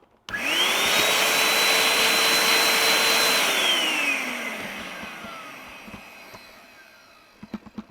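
Numatic vacuum cleaner motor starts with a sharp whine, holds a loud steady hum for a few seconds, then spins down with falling pitch, followed by a few faint clicks.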